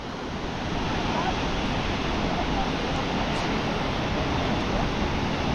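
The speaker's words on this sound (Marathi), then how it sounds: "हा वॉटरफॉलची लोकेशन आहे अरुणाचल प्रदेशमधील जंग या गावाच्या 2 किलोमीटर खाली असा पद्धतीचा हा वॉटरफॉल आहे." Broad, steady roar of falling water from a waterfall below Jang village in Arunachal Pradesh, feeding the Tawang river; loud and continuous with no pauses, close by and alone.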